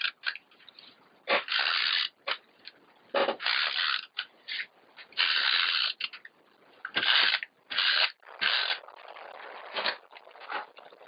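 Tape is pulled and torn off a roll and pressed onto a handmade watercolor card, a series of close, crackling, ratchety rips in uneven bursts separated by brief pauses.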